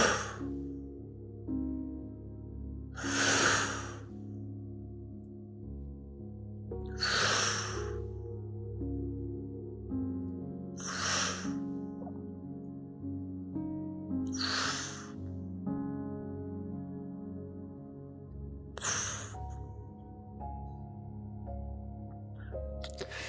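Slow, deep breaths during a breathing exercise: about six long airy inhales and exhales spaced several seconds apart, close and clear, over a soft sustained musical background.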